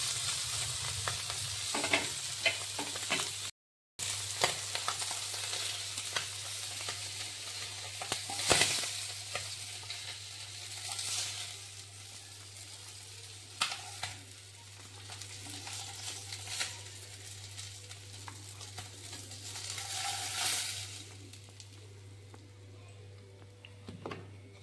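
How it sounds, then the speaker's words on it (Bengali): Tangra fish frying in hot oil in a wok, a steady close sizzle with occasional stirring clatters and spatters over a constant low stove hum. "মাছগুলি লাল লাল করে ভেজে নিয়েছি, এবার আমি এগুলি উঠিয়ে নেব।"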